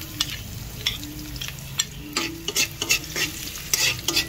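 Garlic sizzling in hot oil in a pan while being stirred, a steady frying hiss broken by repeated scraping and clinking strokes of the utensil, close and fairly loud with no talking.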